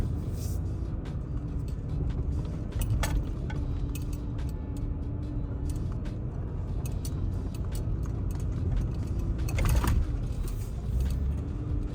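A 2022 Toyota Tacoma TRD Off-Road with a 6-speed manual and aftermarket suspension crawls off-road in first gear, low range. A steady, close drivetrain rumble runs throughout, with scattered rattles and clicks, and no talking.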